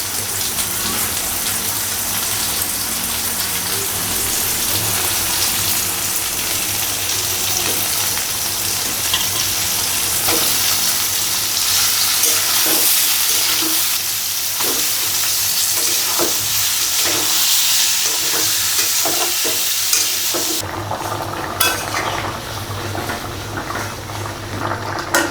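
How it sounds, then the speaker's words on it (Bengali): Fish laid over frying onions sizzles hard in a hot pan, a loud continuous hiss with bursts of crackle. The hiss eases slightly near the end. "পেঁয়াজের উপরে মাছ দিয়ে দিচ্ছি।"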